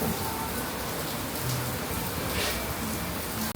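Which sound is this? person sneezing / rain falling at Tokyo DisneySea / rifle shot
rain falling at Tokyo DisneySea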